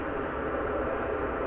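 Brief, steady rumble and whine of an airliner landing at Dallas Fort Worth airport, moderately loud and continuous, with no talk.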